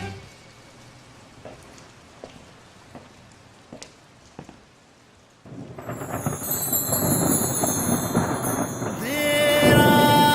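Rain with thunder: scattered sharp crackles and thumps come first, then a dense, steady hiss of rainfall swells in, joined by music toward the end.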